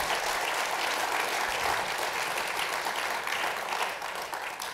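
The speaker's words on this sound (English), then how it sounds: "Another round of applause." An audience at a lecture event gives sustained, dense applause, loud and continuous from the start before tapering off in the final second.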